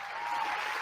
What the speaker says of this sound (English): I hit the round of applause